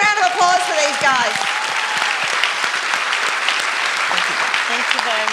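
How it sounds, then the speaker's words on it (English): Audience applause for speakers at a real estate industry conference, a loud, dense burst of clapping from a large crowd that continues steadily throughout, with a voice speaking over it at the start. "Big round of applause for these guys."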